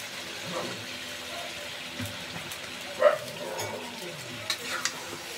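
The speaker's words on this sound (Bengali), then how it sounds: "ভালো করে নেড়ে ছেড়ে ঢেকে দেব।" Small pieces of mutton on the bone are stirred in hot spiced oil in a pot. Soft sizzling runs under scraping and clinking from the spoon, with one sharper knock near the middle.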